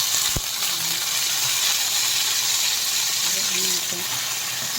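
Chopped tomatoes dropped into a pan of frying browned garlic and onion for a mung bean dish with spinach and fish, giving a steady close sizzle with a brief clatter at the start.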